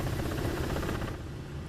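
Rotor noise of a Ka-50 Shark helicopter in the DCS World flight simulator, a steady low droning whir with rhythmic blade pulsing, heard alone and fairly quiet.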